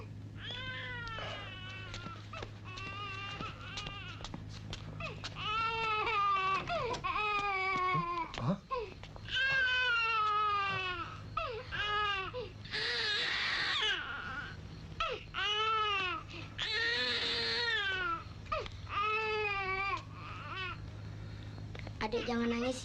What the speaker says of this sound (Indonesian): Kami mendengar suara tangis bayi di muka rumah.